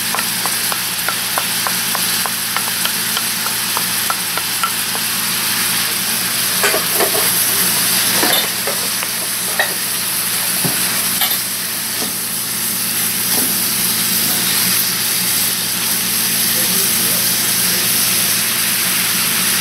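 Finely chopped carrots sizzle in a frying pan, a loud, steady crackling fry with occasional scraping stirs of the spoon running through the whole stretch, with no voices.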